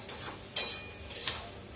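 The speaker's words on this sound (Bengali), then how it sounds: "এবার এটাকে একটু কষিয়ে নিতে হবে" Mutton is stirred and fried in a pan, with a few scraping strokes of a spoon against the metal over a faint sizzle, close and brief, and no voices.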